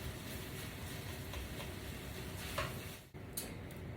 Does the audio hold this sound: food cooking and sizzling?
yes